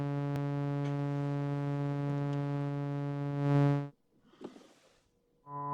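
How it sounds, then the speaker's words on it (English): Steady Moog Werkstatt synthesizer tone, a rich harmonic drone held for nearly four seconds, swelling slightly before cutting off; after a brief gap with faint rustling, the tone returns. No one speaks. "we are hearing the sound from the Werkstatt"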